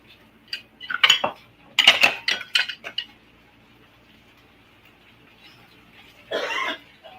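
A small batch of dishes being washed by hand at home: scattered clinks and clatters of cutlery and dishware in short bursts, followed by a stretch of running water near the end.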